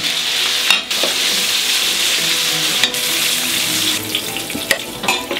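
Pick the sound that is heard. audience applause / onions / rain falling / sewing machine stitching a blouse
onions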